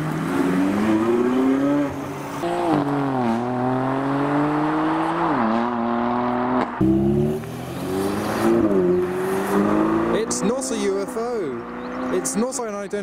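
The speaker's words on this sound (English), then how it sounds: "we now have a 918. Bright orange on the Porsche 918." Bright orange Porsche 918 supercar pulling away from a car show, a loud engine rising and falling through several revs and gear changes, passing close, with someone talking over it.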